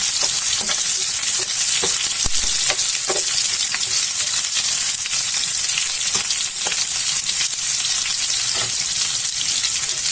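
Onions frying for a matar paneer masala, a loud continuous sizzle in the pan with occasional spoon scrapes and stirring clicks.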